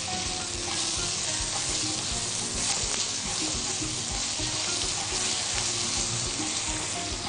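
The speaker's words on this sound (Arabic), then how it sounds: "خلي الرز معاكي والبصل يتشوحوا كويس جدا" Rice and onions sautéing in a pan for stuffed chicken, a continuous loud crackling sizzle with stirring underneath, steady throughout and close to the pan.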